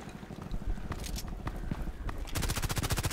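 Gunfire from the 91 rifle in the shooter game Contract Wars: a few scattered shots early, then a dense, rapid burst of sharp, loud cracks in steady rhythm during the last second.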